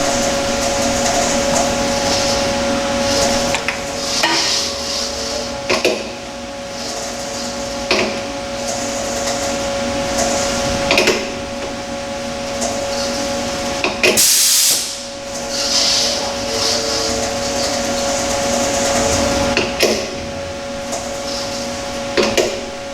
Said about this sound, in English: Here we've got a barrel dialed in the lathe.